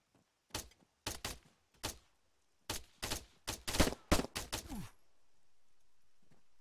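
Gunfire in a video game: sharp shots in short bursts and single cracks, loud and close, ending in a quiet hum.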